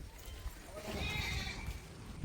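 A horse at a bullock-cart racing event, with soft hoof clip-clops and a possible whinny, faint and mixed under background voices and crowd noise.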